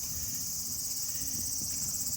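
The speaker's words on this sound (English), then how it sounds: "Are they the crickets or cicadas doing their mating calls?" Crickets or cicadas chirr in a constant high-pitched trill at Toji Temple, Kyoto, in late summer, steady and unbroken, with faint low background noise underneath.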